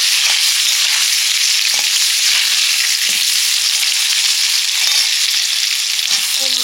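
Hot oil spattering and sizzling loudly in a pan as turmeric is added to Rupchanda fish curry with water present, a dense continuous crackle with small pops throughout.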